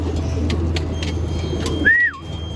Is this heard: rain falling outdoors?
no